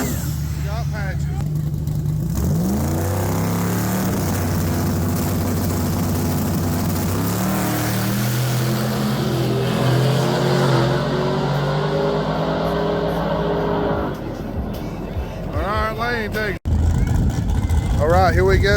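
Small-tire drag racing cars launching and accelerating at a Dig or Die Flashlight Fiesta event, a loud engine roar climbing steadily in pitch for several seconds, cutting out abruptly, then a fresh burst of engine noise at the end.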